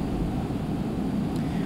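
Airplane landing in the video game Extreme Landings Pro during a storm mission: a steady, dense engine and wind roar that holds at an even level throughout, with no talking heard.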